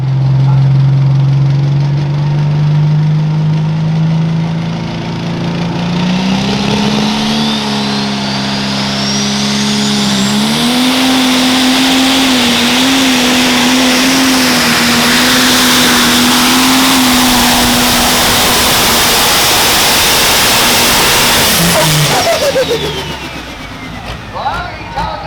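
A powerful turbocharged, intercooled pro stock pulling tractor engine roars steadily and close, its pitch climbing as it revs up, then holding a loud sustained drone before dropping away at the end.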